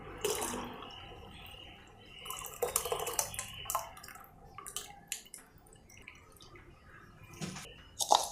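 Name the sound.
pouring lentil cooking water into rasam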